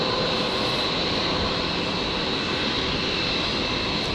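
A Qantas Boeing 787 Dreamliner takes off from runway 01 right at Brisbane airport, its engines making a continuous loud rushing roar with a faint high whine, nearby and steady, no voices.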